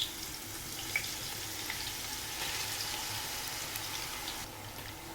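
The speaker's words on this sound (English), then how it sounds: "Stir-fry the onions until they turn slightly golden brown." Finely sliced onions frying in hot oil with whole spices like cloves and green cardamom, giving a steady, soft, hissing sizzle with faint crackles throughout.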